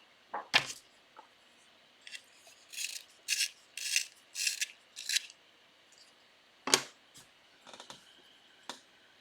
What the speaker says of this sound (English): I need sharpener.